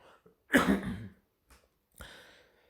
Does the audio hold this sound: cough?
yes